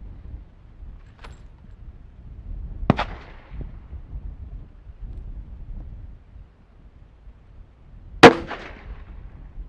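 A .22 caliber rifle firing 53 grain VMAX bullets outdoors in a steady wind: two sharp, loud cracks several seconds apart, each ending quickly, over a low rumble of wind noise.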